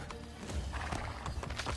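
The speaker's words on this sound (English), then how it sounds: "Let's go ahead and grab this horse." A horse in Assassin's Creed Brotherhood clops along with rhythmic hoofbeats and lets out a whinny, the game's hooves and neigh sounding fairly close over a low ambient rumble.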